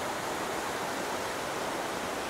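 Roaring waterfall at Le Bout du Monde in Sixt-Fer-à-Cheval, a dense, steady broadband rush of falling water, loud and close, with no voices over it.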